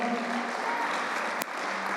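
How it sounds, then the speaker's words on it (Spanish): Church congregation applauds during a sermon, a soft, steady wash of clapping heard at a distance with a brief sharp click partway through. "¿Por qué no le doy un aplauso al Señor?"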